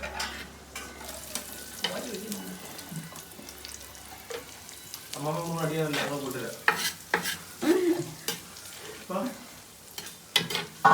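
Grated coconut tipped into hot oil in a pan for a Kerala-style beef curry, a close crackling sizzle with stirring scrapes and clatter that grows busier toward the end.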